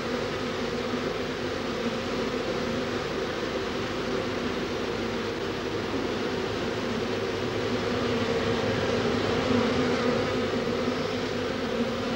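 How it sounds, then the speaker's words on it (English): A honeybee swarm takes to the air, a dense, steady buzz of thousands of wings droning close and continuous with no talk over it. "all the bees in the swarm taken to the air and flying back onto my hands to stay with the queen"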